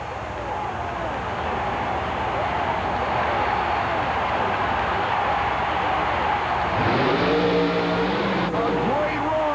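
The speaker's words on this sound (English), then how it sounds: "The ex-oval track driver lines up in the nitrous-injected, fuel-injected Chevrolet-powered coupe." A nitrous-injected, fuel-injected Chevrolet-powered coupe roars on a racing run at a monster truck event in St. Paul, Minnesota, its engine a loud, sustained, distant drone that climbs in pitch near the end, with an announcer talking over it.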